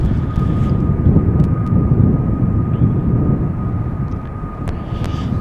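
An Air Baltic Airbus A220 taxiing at Amsterdam Schiphol Airport, a steady loud engine rumble holding close and constant throughout with no voices.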